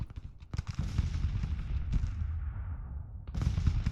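Musket volleys and cannon fire rumble across a Civil War battlefield in Grand Tactician, a dense low roar of distant gunfire and booms that swells and fades, with a louder burst near the end.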